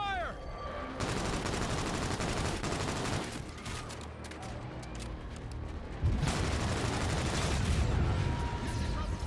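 Heavy gunfire in the Call of Duty: Infinite Warfare campaign, sustained bursts of automatic weapons and loud impacts crackling nonstop for several seconds, growing louder toward the end.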